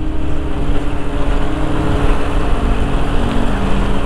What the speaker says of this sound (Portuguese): tem mais de 20 motos aí na frente